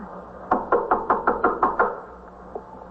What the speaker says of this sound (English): you better knock on the door